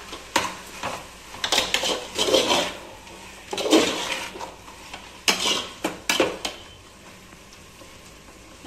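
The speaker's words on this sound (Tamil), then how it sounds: "நல்லா இஞ்சி பூண்டு பேஸ்ட் பச்சை வாடை போற வரைக்கும் நல்லா கிளறி விடுங்க" Ginger garlic paste stirred in a pan while cooking prawn dum biryani: a spoon scrapes and clinks against the metal in short bursts with pauses, close and fairly loud, and no one speaks.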